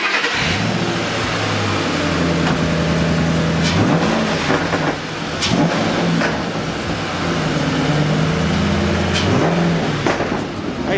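A Mustang GT V8 engine with a Roush cold air intake and throttle body revs hard at close range, rumbling low and surging in repeated bursts with sharp crackles between revs.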